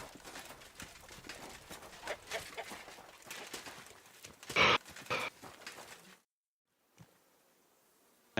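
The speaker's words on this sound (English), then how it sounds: "Lovely horses you have here." Hooves clip-clop with clucking fowl amid ambient game noise, a sharp burst near the middle, then near silence before the sound cuts back in.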